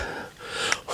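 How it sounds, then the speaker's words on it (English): Heavy breathing from a hiker after climbing the Haystacks fell, a couple of close gasping breaths with sharp intakes near the end. "That's enough of the heavy breathing."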